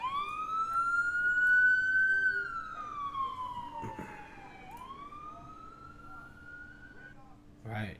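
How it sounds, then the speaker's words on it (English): A police siren sound effect wails loud and close, sweeping up then down in long rising and falling tones for most of the stretch before fading out, with a brief faint voice near the end. "All right, just one little run on the sirens."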